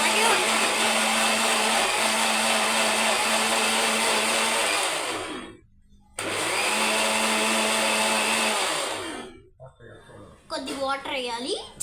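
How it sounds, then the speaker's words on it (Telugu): A kitchen mixer grinder blending a healthy drink with water whirs loudly and steadily, stops briefly, then runs again before cutting off, with voices talking near the end. "మిక్సీ సౌండ్ అలాగే ఉంటుంది."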